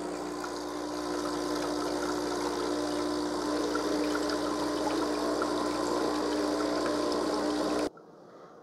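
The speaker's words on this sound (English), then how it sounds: "Now it's kind of gone back to running water out both nozzles." An Amazon Commercial espresso machine pumps water out of both nozzles during descaling, a steady humming pump with a continuous watery hiss that runs for about eight seconds before stopping abruptly.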